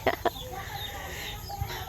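A chicken gives two quick, close clucks at the start, followed by softer background sounds and a faint low thump.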